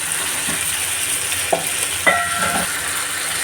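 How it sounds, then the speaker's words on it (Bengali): Chicken kosha with potatoes frying and being stirred in a pan, a soft steady sizzle broken by a few sharp spatula scrapes and clinks near the end, no voices. "চিকেন দেখো কষাচ্ছি আমি আলু দিয়ে দিলাম"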